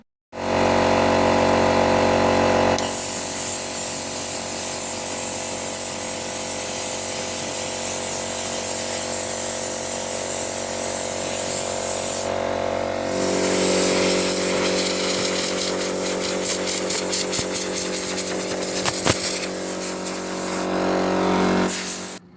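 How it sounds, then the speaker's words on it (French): A power sander works over pallet wood for a storage chest, droning loudly and steadily close by, pausing briefly, then resuming with a shifted pitch and some rattling bursts before a short break and a restart. "je termine de poncer parce que je suis en train de poncer"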